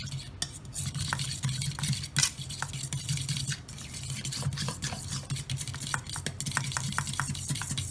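A spoon stirs a mixture containing Tabasco sauce and lime juice in a bowl, with a continuous wet swirling scrape and scattered light clinks of utensil against the dish, close and clear.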